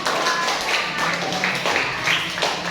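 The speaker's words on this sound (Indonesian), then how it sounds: "Ya, tepuk tangan." Classroom of children clapping hands together after a pupil answers, a steady, fairly dense patter of small hands sustained throughout with faint voices mixed in.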